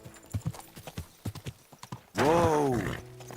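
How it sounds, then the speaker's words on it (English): In the video game Kingdom Come Deliverance 2, a horse's hooves clip-clop in a quick, uneven series of hits, then the horse lets out a loud, close whinny that drowns out the hoofbeats. "Easy, good horse."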